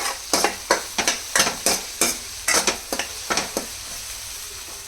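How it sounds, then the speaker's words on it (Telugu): Ginger garlic paste fries in a pan under a low, steady sizzle while a spoon stirs and scrapes it in a quick, regular series of close, sharp strokes. "అల్లం వెల్లుల్లి పేస్ట్ కూడా చక్కగా మగ్గిపోయింది."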